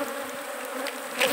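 Honey bees buzzing densely on a brood comb frame being shaken, a steady close droning hum with a brief louder swell near the end.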